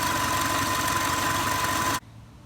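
A 2004 Subaru Impreza engine, suspected of overheating from a bad radiator or failed head gasket, idles with a loud steady drone and a constant whine, then cuts off abruptly to near silence.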